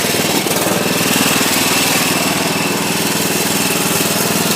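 A Craftsman riding lawnmower engine runs steadily with no battery or ignition connected, a loud continuous rough chugging drone with a rapid pulsing beat throughout, close by and alone.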